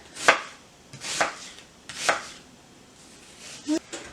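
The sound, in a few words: slicing an onion with a knife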